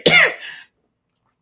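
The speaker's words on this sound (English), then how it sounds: "It's just this little dry hacking cough." A woman gives a single short, dry hacking cough, close and fairly loud, followed by silence and a tiny faint click at the end.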